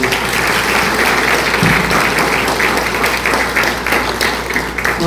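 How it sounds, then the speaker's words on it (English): An audience at an evening of Appalachian storytelling applauds a storyteller's performance: steady, full clapping from a crowd that fills the room and continues throughout. "Give Marcia another round of applause."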